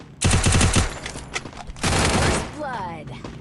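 Rapid bursts of automatic gunfire in the Free Fire mobile shooter game, loud and close: a dense volley at the start, scattered shots, then a second sustained burst, with game effects and voices underneath.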